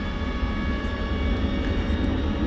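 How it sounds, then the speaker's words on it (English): A Frontier Airbus A320neo arriving at DFW airport from Los Angeles, a steady loud jet engine roar with a deep rumble and a thin whine, continuous and close, with no voices. "Frontier Flight 4964 arriving from Los Angeles, an Airbus A320neo"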